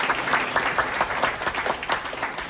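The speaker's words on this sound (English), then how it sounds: "You can applause, please." An audience at a candidate forum applauds with steady, dense clapping from many hands for the whole span, moderately loud and without a break.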